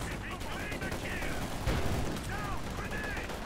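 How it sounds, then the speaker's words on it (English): Machine guns in Company of Heroes 2 fire in a dense, continuous clatter of rapid bursts, one sharp louder blast near the middle, under a talking commentator. "A ton of machine guns right there firing away at the"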